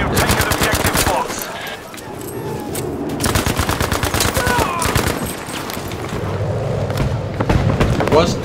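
Battlefield V gunfire rattles almost nonstop in loud, dense automatic bursts, with heavier booming shots mixed in and faint voices underneath.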